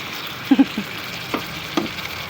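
Hot cooking oil pops and sizzles in a pan on the stove, with a few loud close spatters bursting over a steady frying hiss.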